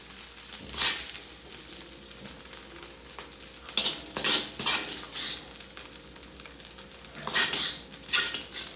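Crispy pata fried rice is scooped and scraped from a pan into a container, with repeated metal utensil clangs and scrapes against cookware, some soft sizzling, and bursts of clatter in irregular rhythm, close and moderately loud.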